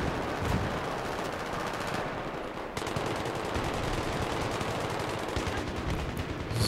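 Rapid automatic gunfire and bursts of shots from the PC video game Battlefield 3 multiplayer, dense and continuous throughout with loud overlapping fire and brief lulls.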